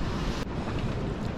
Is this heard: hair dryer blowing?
no